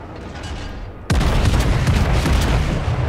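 In World of Warships, the battleship Warspite fires a single heavy gun salvo: a sudden loud boom that leaves a dense roar ringing on after it, over quieter game ambience.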